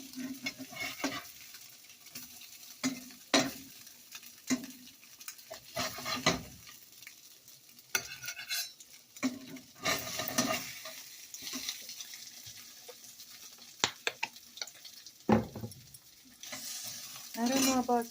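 Pancakes sizzle steadily in a hot pan just after being flipped, with scattered sharp clinks and scrapes of a spatula against the pan and a few louder knocks, no voices.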